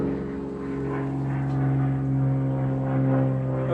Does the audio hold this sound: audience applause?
no